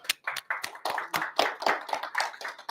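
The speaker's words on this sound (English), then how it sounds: "So quick round of applause for them." A quick round of clapping from a small meeting audience honoring a housing sponsor, with individual hand claps distinct and fairly close, steady and brisk for about three seconds.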